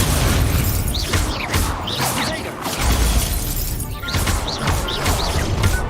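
Repeated Confringo explosion spells in the Hogwarts Legacy video game burst with shattering crashes and booms in quick succession, loud and dense amid ongoing combat noise.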